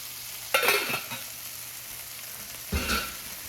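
Ingredients tossed into a hot pan for a budget gluten-free vegan pasta, two loud bursts of sizzling as each batch hits the oil, settling into a softer steady fry between them, close up with no talk.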